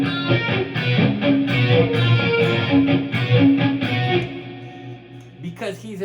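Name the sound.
electric guitar played with reverb effect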